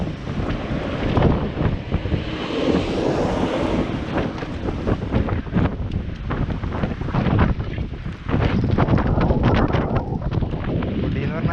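Strong gusting wind before a storm, loud buffeting roar against the microphone filling the whole stretch, with a voice speaking over it.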